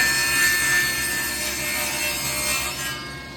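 A table saw cuts through wood with a steady, harsh rasping whine, close and moderately loud, sustained for a few seconds before trailing off, with no voices.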